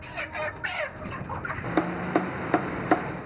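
Chickens at a poultry site in Multan, Pakistan, cluck close by, first in a busy jumble of calls and then in a steady run of short, evenly spaced clucks.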